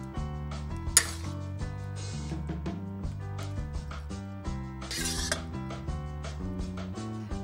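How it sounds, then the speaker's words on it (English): Baked napa cabbage being moved into a baking pan: a series of close metallic clinks and scrapes of utensils against cookware, with occasional sharper clacks, no one speaking. "And then we're gonna move them into a baking pan."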